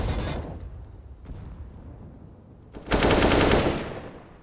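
Gunfire in the video game CS:GO during a competitive esports match, with a burst of shots at the start, a single sharp report around one second, then a louder sustained automatic volley near the end, heard with no talk.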